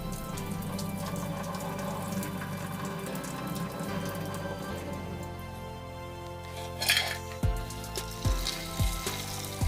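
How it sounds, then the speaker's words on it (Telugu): Nannari roots are rinsed under a running tap, with a continuous close splash of water that gives way near the end to a few clinks and thuds, and nobody speaks. "తర్వాత ఈ వేర్లని మనం బాగా నీట్గా అయితే కడుక్కోవాలి."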